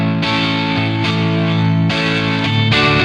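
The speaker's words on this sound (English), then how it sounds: "We've got the chorus pedal," Sustained distorted electric guitar chords through a chorus pedal effect in amp simulation software ring out, changing every second or so, thick and shimmering with a chorus-like wobble, loud and continuous.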